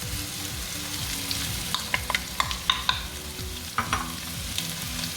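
Chopped red onion, garlic cloves and ginger slices sizzle steadily in a pan, with a few sharp stirring scrapes and spatters on top of the continuous frying hiss.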